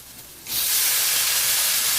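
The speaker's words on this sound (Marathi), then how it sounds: "यामध्ये थोडासा पाण्याचा हपका देणार आहे" A splash of water hitting frying masala in a kadhai, a quiet simmer that suddenly erupts into a loud, sustained steamy hiss and sizzle.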